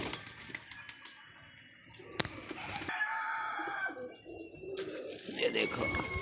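Pigeons coo at a pigeon club, with a rooster crowing and other birds mixed in, under a voice and sharp clattering knocks.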